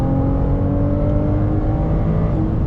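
A Ferrari 296 GTS drives hard on a race track, its engine a loud, steady, close drone with strong tonal harmonics and no talk.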